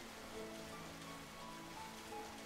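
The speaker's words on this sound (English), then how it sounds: "Also, it's raining." Steady rain falls in the Pokemon Scarlet game world, a soft continuous hiss of drops on surfaces that holds even throughout without any talking.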